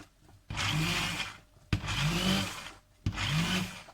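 A hand-held immersion blender whirs in three loud bursts, each about a second with short pauses between, its motor pitch shifting as it purées hot, still-boiling garlic vegetable soup.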